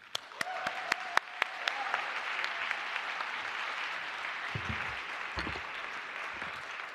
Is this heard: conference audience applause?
yes